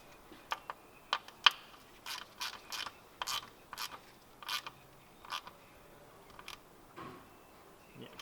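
Ratcheting clicks from a wrench tightening the transmission drain plug on a 2005 Ford Escape, a series of short, close, sharp ticks in uneven bursts with brief pauses.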